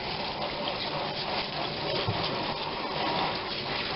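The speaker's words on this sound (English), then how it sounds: "you really want to make sure you rinse it well" Tap water gushes steadily while chili peppers are rinsed, a continuous close, loud splashing rush with no pauses and no talking.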